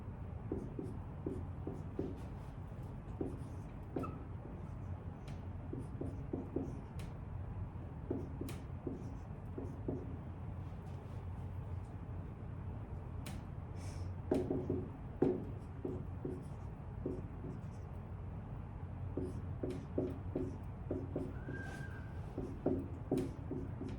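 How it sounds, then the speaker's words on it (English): A math equation being written out by hand, soft close scratchy strokes in short rhythmic bursts with taps and pauses, over a steady low room hum and no talking. "So first, I'm just going to write it out to explain."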